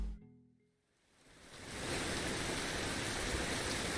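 Rain in the Russian Fishing 4 fishing game: after a brief quiet tonal start, a dense, even hiss of falling rain builds up and then holds steady and full.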